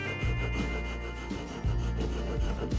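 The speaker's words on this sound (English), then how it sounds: "Using a file, I can quickly round off all the edges and uneven parts on the handle." A hand file rasps over the edges of a wooden axe handle, rounding off uneven spots in steady back-and-forth strokes, close up and continuous with no talking.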